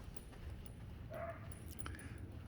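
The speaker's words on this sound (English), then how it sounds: "There's a dog, of course, near my room. And I believe it's unattended. The poor thing is very upset. It's barking, it's whining." An unattended dog near a hotel room, faint and muffled as if behind a door, gives a few short whimpers and yips over a steady hallway hum.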